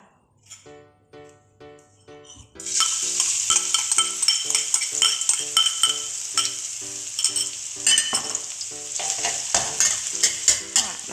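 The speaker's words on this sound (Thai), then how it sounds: "มันของเราเริ่มร้อนแล้วนะคะ ค่ะเดี๋ยวเราจะเอากระเทียมของเราลงไปเลยค่ะ" Garlic dropped into hot oil for fried pork with garlic and pepper, starting as quiet clinks then bursting into loud, steady sizzling frying with repeated stirring scrapes and utensil taps throughout.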